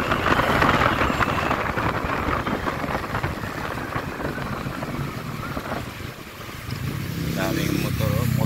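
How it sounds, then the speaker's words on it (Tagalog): Busy road noise on C5 Road with several motorcycle engines droning and revving nearby, steady and loud, with wind buffeting. "Daming motor."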